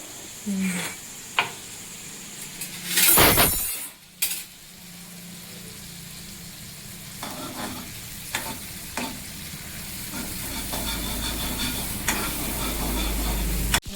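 Mustard seeds and cumin frying in oil for kadhi, a steady sizzle with sharp clinks and scrapes of a spoon against the pot and one loud burst of crackling early on, close and without speech.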